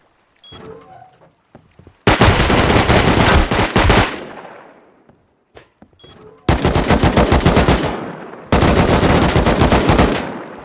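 Loud bursts of video-game automatic gunfire during a Rust base raid, three sustained volleys with short gaps between them, plus a few scattered lighter clicks and thuds in the pauses.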